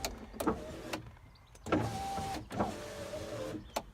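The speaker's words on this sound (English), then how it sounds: "The electric windows are live with the ignition off." Electric windows on a Ford Escort MK5 whirring in several short runs with clicks and brief pauses, each motor hum rising then cutting off, close and clear with no talk.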